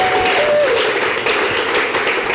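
Audience applause at a French-language church sermon: a dense, steady wash of clapping from a crowd, loud and continuous throughout.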